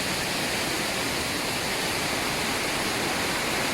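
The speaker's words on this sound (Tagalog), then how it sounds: "Galing sa taas ang tubig." A waterfall pours down from above in a steady, dense roar with no change or break, close and loud throughout, with no voices over it.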